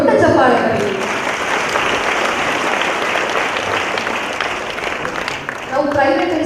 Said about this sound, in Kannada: ಅವರು ದೊಡ್ಡ ಚಪ್ಪಾಳೆ ಬರೀ